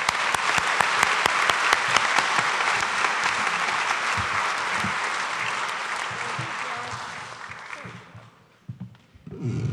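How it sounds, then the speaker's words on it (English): An awards-ceremony audience applauds the eight staff awardees, sustained clapping that holds strong for several seconds, then thins out and fades as a few last claps and murmurs remain. "one more round of applause for the 8 awardees"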